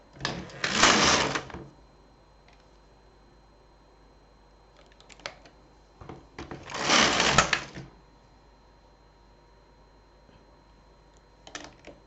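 An LK 150 knitting machine knits a sock, its carriage sliding across in two loud, scraping swishes roughly six seconds apart, with quiet clicks and small handling knocks in between.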